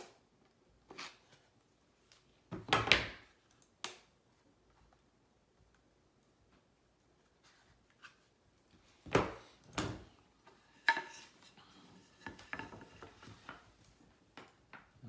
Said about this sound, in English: So we will remove the clamps.